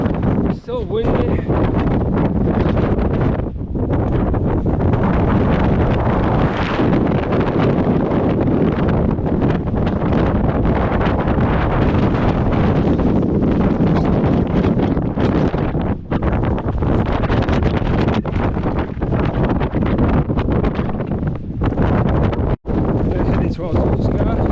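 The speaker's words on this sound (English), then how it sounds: "It's still windy." Strong wind on a Lake District fell top near Steel Fell and Calf Crag, buffeting the microphone as a loud, continuous roar with gusty swells throughout.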